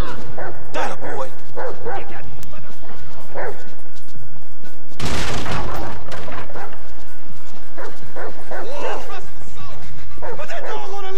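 A dog in GTA 5 barking and yipping repeatedly in quick bursts, loud and close, broken by a sharp crash midway, with someone talking over parts of it.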